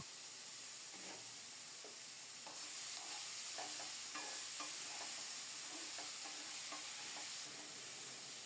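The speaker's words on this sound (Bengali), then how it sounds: "চুলার তাপটা একটু বাড়িয়ে দিয়ে ধুন্দুলটাকেও কিছুক্ষণ কষিয়ে নেব" Ridge gourd stir-fried in a pan over raised heat, giving a quiet, steady sizzle and hiss with soft intermittent stirring scrapes and taps, fairly faint and without any voices.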